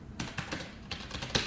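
Keys on a computer keyboard are tapped in quick, irregular bursts, close and fairly quiet, a short run of typing with no voice over it.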